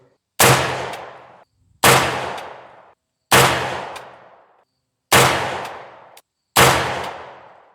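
Five suppressed rifle shots of AAC 220 grain subsonic rounds from a PSA 10.5-inch barrel, each a sharp loud crack with a decaying tail, spaced about a second and a half apart outdoors.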